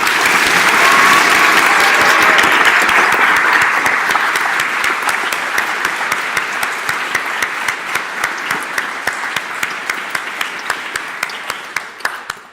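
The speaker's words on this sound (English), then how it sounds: "I think we all owe them a huge round of applause." Sustained audience applause at the grand final of a national debate tournament, dense and loud at first, then thinning into a steadier rhythm of individual claps that fades near the end.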